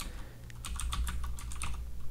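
Quiet keystrokes on a computer keyboard, a short run of quick taps while entering a filename in a terminal text editor.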